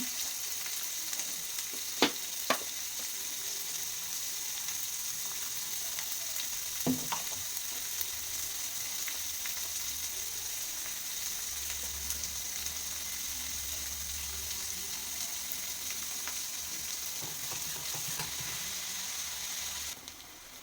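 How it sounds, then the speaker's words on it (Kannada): Onions fry in a pan with a steady, close sizzle that runs throughout, marked by a few sharp clicks and stirring knocks and no talk. "ಇವಾಗ ಈರುಳ್ಳಿ ಫ್ರೈ ಆಗಿದೆ"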